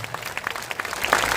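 An audience at a political party founding event claps in a brief, moderately loud burst, scattered hand claps blending into a crowd patter that swells slightly near the end.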